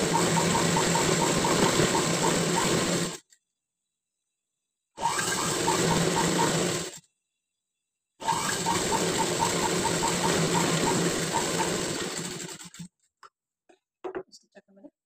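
A sewing machine runs steadily at a half-inch margin on patchwork, three long stretches of dense whirring broken by clean pauses, ending with faint handling clicks.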